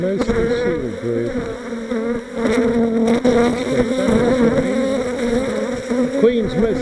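Honey bees buzzing densely on a brood frame during a hive inspection, a close, continuous layered hum with individual bees droning louder as they pass near, and a faint voice at times.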